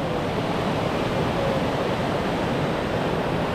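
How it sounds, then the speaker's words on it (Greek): A small stream pours into the Tara River in a Montenegro gorge, making a constant, dense rush of water that holds steady and fairly loud throughout, with no voices. "Εδώ ένα μικρό ποτάμι πέφτει μέσα στο μεγάλο ποταμό του Τάρα"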